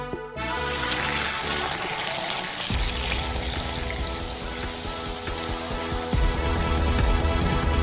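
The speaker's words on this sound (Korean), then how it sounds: "커피는 이미 끓었으므로 스토브에서 꺼내 큰 컵에 부어주세요." Hot coffee is poured into a large cup, a steady close liquid gush and splash that continues without a break and deepens slightly as the cup fills.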